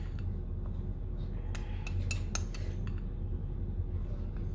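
Homemade natto of fermented soybeans stirred with utensils: soft sticky churning under a steady background hum, with a short cluster of bright metallic clinks in the middle.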